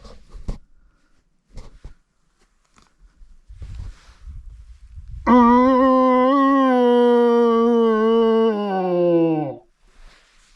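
A man imitates a red deer stag's roar in Otago tussock country, giving one loud, close, sustained bellow of about four seconds that sags in pitch at the end, after a few soft footsteps and rustles.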